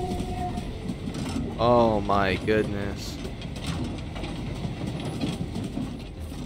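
In the video game Void Train, a train rolls along with a continuous rumbling, clattering rail noise under a surprised voice that briefly speaks over it.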